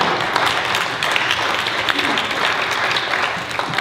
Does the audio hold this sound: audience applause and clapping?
yes